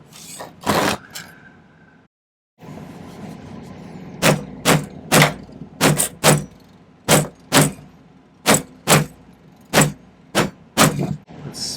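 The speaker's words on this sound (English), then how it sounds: "Some more vigorous whacking on the mandrel." A silver ring is hammered on a mandrel with vigorous, sharp metallic strikes. Around a dozen loud, close blows land in a fairly even rhythm after a brief silent pause, with low background noise.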